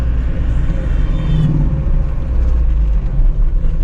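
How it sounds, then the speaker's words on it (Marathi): Pickup truck accelerating along the Solapur highway, a heavy continuous engine rumble with road noise, loud and close from inside the cab, no talk. "आता डायरेक्ट थोडी गाडी खिचून घेऊ"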